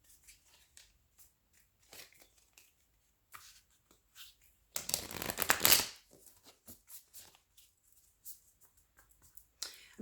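Tarot oracle cards are shuffled in one brisk riffling burst near the middle, framed by quieter scattered handling taps and faint card rustles.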